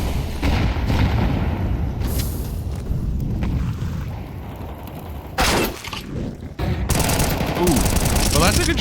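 Gunfire in the video game Counter-Strike during an ESL Challenger League match on the Ancient map, bursts of rapid rifle shots and booms, loud and dense, with a caster talking over parts.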